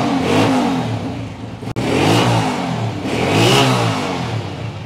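A motorcycle engine idles close up and revs repeatedly, the pitch rising and falling in a few swells with a sharp click midway.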